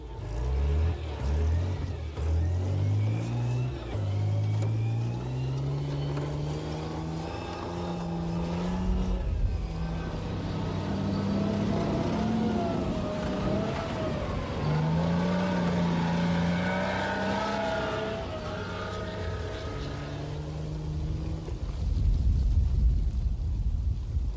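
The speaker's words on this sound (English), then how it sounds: "The massive AVLB is an armoured vehicle laying bridge." A massive AVLB armoured bridge-laying vehicle based on a Chieftain tank runs its heavy engine loudly for a long stretch, the engine note rising and falling in pitch as it revs and moves, with no talking.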